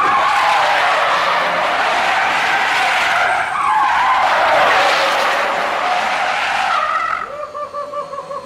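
A Toyota Corolla skids with loud, sustained tire squeal for about seven seconds, the screech rising and falling as the car slides, then dropping away to quieter engine and road noise at the end.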